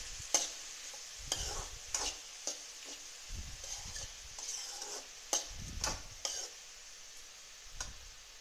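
Chopped elephant foot yam stem frying over a low flame is stirred with a utensil, giving soft scraping strokes in an irregular rhythm and a gentle, quiet sizzle underneath.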